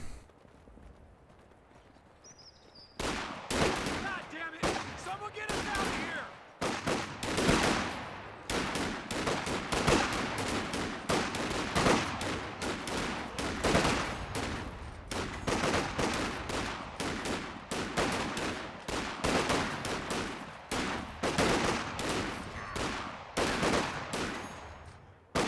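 Riflemen charging and firing in a video game battle against Fox Grenadiers, a dense, continuous crackle of rifle shots and volleys at long range after a brief quiet start, steady and loud without talk.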